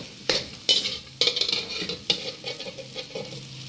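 Makhandi halwa is stirred and roasted in ghee, with several sharp scraping strokes of a spoon against the pan over a constant close sizzle that settles into softer, quicker stirring.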